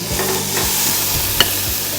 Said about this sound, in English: I love to cook in a charcoal barbie.